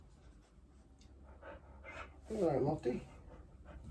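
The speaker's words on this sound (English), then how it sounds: "dogs come to see us" A dog pants close by with quick, breathy bursts and a faint whimper, loudest in a short stretch midway, while someone speaks briefly.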